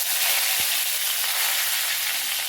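Curry leaves and a dried red chili frying in hot oil for raw mango thokku make a loud, steady, close sizzle with no voices.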